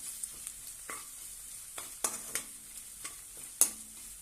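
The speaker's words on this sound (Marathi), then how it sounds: "त्यामध्ये आलं लसणाची पेस्ट घालूया आणि छानपैकी परतून घेऊया" Ginger-garlic paste sautéing in a pan for dum aloo, a faint steady sizzle broken by several sharp scrapes of a spatula stirring at irregular intervals, no voices.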